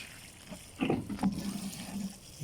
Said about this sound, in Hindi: अब इन्हें ऊपर से पानी डालकर ऊपर से अच्छी तरह पानी डाल देना है